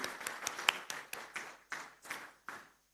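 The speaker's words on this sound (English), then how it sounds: "let's give a big round of applause to entire Padmaja Group" About a dozen sharp, evenly spaced claps ring out close by for the Padmaja Group at a corporate event. They come in a steady rhythm and are heard alone before stopping abruptly.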